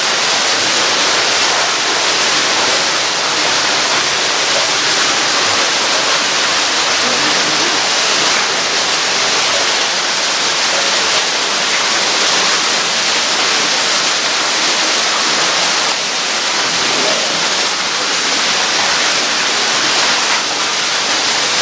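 Water rushes and splashes continuously inside Cody Caves, a dense, steady roar echoing in an enclosed space, with no voices.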